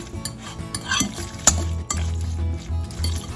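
A spoon scrapes and clinks against a bowl or pan while seasoning such as white pepper is stirred into chicken quesadilla filling, giving close, uneven scraping strokes with a low rumbling rub in the second half and no speech.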